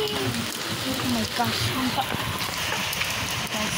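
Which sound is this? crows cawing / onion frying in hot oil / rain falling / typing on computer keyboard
rain falling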